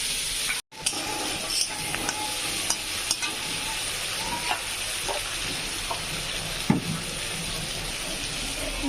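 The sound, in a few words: meat spice masala frying in a pan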